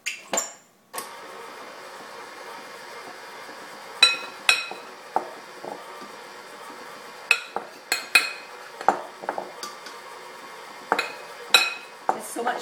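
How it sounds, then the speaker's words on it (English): A utensil scrapes and knocks against a mixer blade to clear off stuck butter while making old-fashioned shortbread cookie dough, giving sharp metallic clinks and taps at uneven intervals over a quiet kitchen background. "I'm going to just remove the butter that's stuck on the blade"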